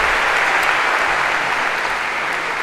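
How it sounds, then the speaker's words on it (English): An audience in a university lecture class gives a round of applause, dense steady clapping throughout at moderate loudness, fading slightly at the end. "Perhaps a round of applause for our special Professor Gav."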